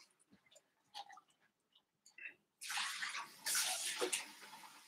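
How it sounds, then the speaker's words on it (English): Paint rinse water being changed out: scattered light clinks and taps of cups and brushes, then water pours and splashes loudly and steadily into a container for the last couple of seconds. "It's a good time to change your water out, get some fresh water."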